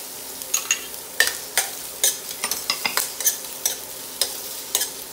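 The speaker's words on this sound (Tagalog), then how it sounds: "Luto-lutoin muna po natin ang onion" Onion sizzles in olive oil in a hot wok as a utensil scrapes and stirs in quick, regular strokes. The frying hiss is close and clear, and no one talks.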